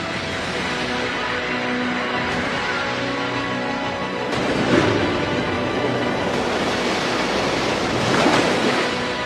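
Ocean waves wash against a steep-sloped shore in a continuous hissing roar, with two heavier surges swelling louder midway and near the end.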